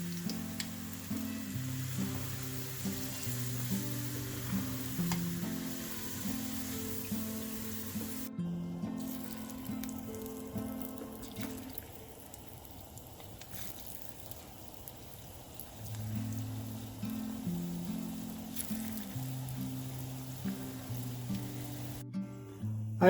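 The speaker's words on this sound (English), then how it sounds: "I've finished frying the cauliflower." Cauliflower frying in hot oil gives a steady crackling sizzle throughout, with low musical tones running underneath and no talking.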